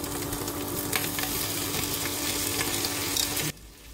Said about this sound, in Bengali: ডিম আমার ভাজা হয়ে গেছে। দিয়ে দিলাম রুটির টুকরোগুলো।